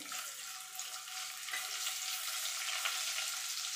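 Steady, close sizzling of chopped ginger frying in hot oil with cumin seeds, a bright crackling hiss that continues without pause and no talking.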